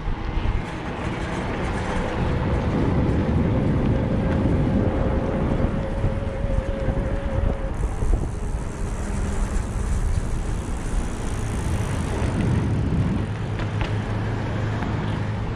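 A Bulls E-Stream EVO AM 3 27.5+ electric mountain bike cruises along a trail, with steady loud wind buffeting and rolling rumble throughout and no talking.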